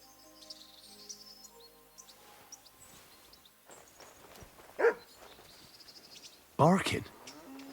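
A dog barks in Kingdom Come: Deliverance II, two short loud bursts standing out against quiet outdoor ambience with faint insect and bird sounds.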